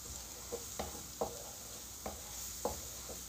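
Garlic frying in two tablespoons of ghee in a pan for keema pasta gives a steady, soft sizzle. About six light knocks from a stirring spoon land at uneven intervals over it, close up, with no voices.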